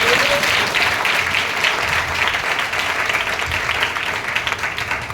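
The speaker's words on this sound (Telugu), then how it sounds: "ఇది గట్టిగా చప్పట్లు కొట్టండి." Sustained applause from a church congregation during a Sunday worship service, a dense steady wash of many hands clapping at close to moderate distance, loud and unbroken throughout.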